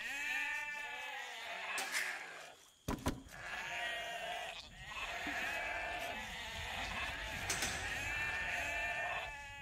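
Sheep bleat repeatedly at close range. Several drawn-out, wavering calls overlap almost continuously, broken by one sharp thump.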